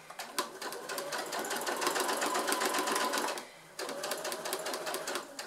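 A sewing machine stitches a fabric pouch about 1 cm from the edge, running in a steady rapid clatter. It pauses briefly near the end, then starts again.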